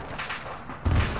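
A sudden deep boom hits near the end, a heavy low thud from an explosion in Arma 3 rising over a steady background rumble.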